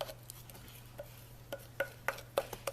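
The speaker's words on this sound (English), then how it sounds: "I scrape as much of it into the bag as I can" Caramel scraped from a microwave dish into a popcorn bag: a series of short, sharp scraping and tapping strokes at an irregular rhythm, close and fairly quiet, against a low steady hum with no talk.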